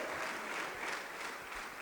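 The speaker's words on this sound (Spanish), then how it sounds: "dele fuerte las palmas al Cristo amado" A church congregation claps, a faint, steady patter of many hands that runs through the whole short clip without pause.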